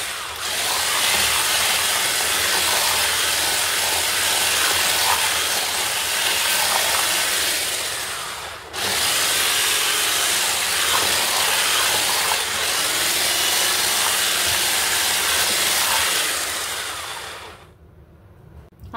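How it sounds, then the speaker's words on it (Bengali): A hand blender whirs loudly in a pot while blending a sweetened rice mixture, producing a dense, steady roar that breaks off briefly once and stops near the end. "এবার কিন্তু আমি আবার হ্যান্ড ব্লেন্ডার দিয়ে"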